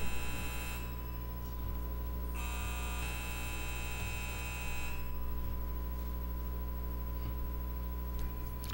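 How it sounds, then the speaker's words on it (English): An electronic buzzer for a legislative vote sounds in long, steady stretches over a low background hum, stopping and starting again a few times. "as soon as those buzzers stop ringing"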